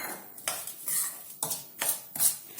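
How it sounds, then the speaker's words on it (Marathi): Curd being mixed into fine semolina batter for rava dhokla, with a spoon knocking and scraping against a bowl in four or five distinct strokes, close by and fairly quiet. "हे पण याच्यामध्ये टाकून ठेवूया आणि याला छान मिक्स करूया"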